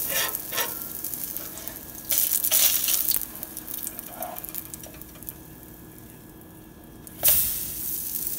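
A pancake sizzles in a hot frying pan as it is flipped, with soft scraping and stirring noises over a steady frying hiss and a sharper sizzle burst near the end.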